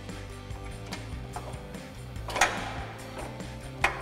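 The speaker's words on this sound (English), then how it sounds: "we can thread in our bolt that was also included in the kit." Ratchet threading a bolt from a Toyota Tundra 3-inch TRD suspension lift kit, a steady run of close mechanical clicks with a couple of sharper metallic clacks, heard alone.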